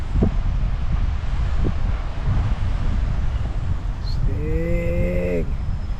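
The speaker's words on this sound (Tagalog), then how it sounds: "Mahangin eh." Steady wind buffeting a microphone outdoors on a breezy Pacific coast, a rumbling low roar throughout with a brief tonal engine or horn sound near the end.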